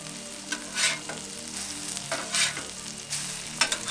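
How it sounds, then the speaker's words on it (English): Breakfast smashburgers sizzle on a Pit Boss 5-burner griddle as they are flipped, with a steady frying hiss broken by several scraping spatula strokes, close and without talk. "So we'll take the rings off. Give those a little flip."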